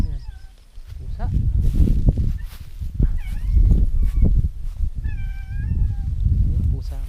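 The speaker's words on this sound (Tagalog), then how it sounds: "Ayan, pusa nga." Cat meowing outdoors along a mountain trail on Mt. Kulis, several short rising mews spread through the stretch under steady nearby conversation and rustling.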